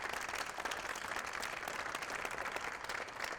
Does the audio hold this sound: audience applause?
yes